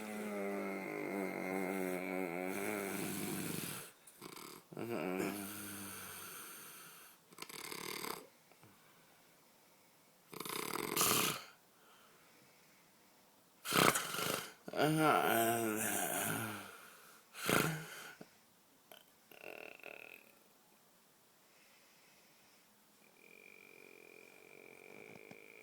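A person snoring loudly while asleep at night, with long rasping, snorting breaths repeating unevenly across the stretch, close up and fairly loud with quieter pauses between them.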